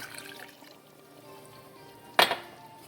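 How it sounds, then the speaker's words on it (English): Water poured into a pan of orzo simmering for Greek chicken and orzo, a single short splash near the end over a quiet, faintly hissing kitchen background. "I'm going to add some water."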